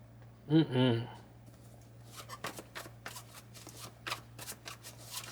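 A deck of tarot-style cards is shuffled by hand in a rapid run of close, crisp riffling clicks, following a brief voice at the start.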